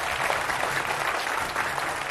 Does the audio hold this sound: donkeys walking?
no